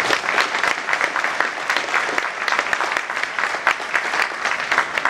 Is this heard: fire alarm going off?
no